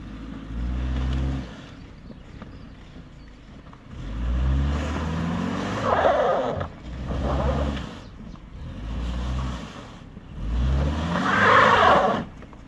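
A car stuck overnight at Arthur's Pass revs its engine as the driver tries to pull free. Around five separate loud surges rise and fall, with short lulls between them.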